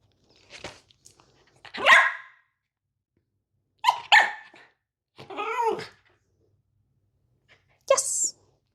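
A dog barks in short, sharp bursts, four or five yelps spaced by quiet pauses, close by.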